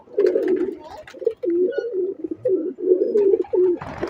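Pigeons of the star breed coo in a repeated run of soft, throaty calls from a rooftop loft, close and fairly steady, broken by short pauses, with a brief rustle at the end.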